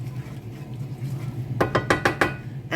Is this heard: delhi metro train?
no